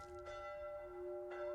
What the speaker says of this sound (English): Oh, that's right. It's the sound of church bells.